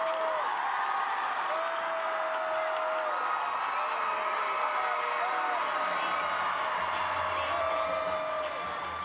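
A packed arena crowd at an NCAA gymnastics meet between Missouri and Auburn roars and cheers in a steady, dense wall of sound, with a voice speaking over the noise throughout.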